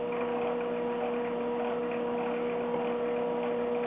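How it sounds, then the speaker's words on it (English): Micromark 7x14 mini lathe running at low speed, a steady close motor hum with a faint regular ticking, constant and alone without talk. "what I'll do is turn on the lathe at a low speed here"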